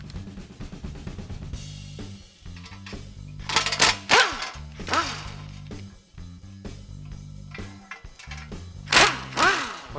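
A hand ratchet clicks in quick bursts while 14mm bolts are backed out during a winch mount and push bar install, with sharp metallic clanks and short pauses between runs, fairly quiet and close.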